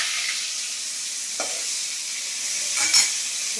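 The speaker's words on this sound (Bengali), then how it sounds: "পমফ্রেট মাছ ভাজা হচ্ছে" Pomfret fish fry in hot oil in a pan with a steady, close sizzling hiss, broken by a couple of brief stirring scrapes.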